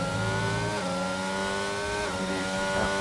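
Mercedes race car in a racing video game on a Belgian circuit, its engine droning steadily through a run of corners, pitch dipping and climbing with gear changes, loud and close.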